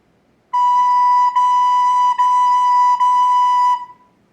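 Recorder playing a steady series of tongued notes on one pitch, each with a clear soft start, four sustained tones separated by brief breaks, clear and close with no talking.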